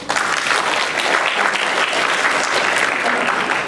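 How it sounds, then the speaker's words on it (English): Audience applause at a Champa youth congress event, a steady dense crowd clapping throughout, loud and close. "so this is Isira, so give her a round of applause."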